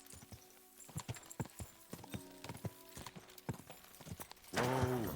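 Horse hooves clip-clopping in a rhythmic trot in Kingdom Come Deliverance 2, close and fairly quiet, ending with a horse's whinny.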